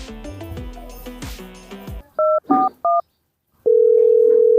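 A phone call being placed, first a quick run of tones and a short musical jingle, then three separate beeps, a pause, and a steady continuous ringing tone at the end, no speech.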